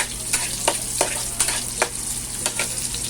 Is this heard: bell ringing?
no